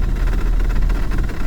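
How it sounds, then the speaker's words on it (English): A Black Square Commander 114 piston engine in Microsoft Flight Simulator idles while the plane taxis to parking, giving a steady, close, low droning rumble with no talk over it. "You hear the engine?"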